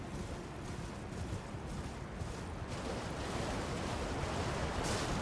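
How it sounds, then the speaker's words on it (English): A steady, broad roar of falling water from a waterfall in the video game Elden Ring, a dense and even wash that fills the scene with no voices over it. "there's a waterfall over here"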